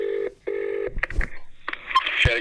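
Telephone call tones: two steady, evenly spaced tone bursts, followed by brief clicks and clatter near the handset.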